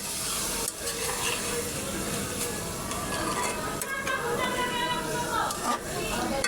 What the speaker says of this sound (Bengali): এই পর্যায়ে নেড়ে চেড়ে নিব।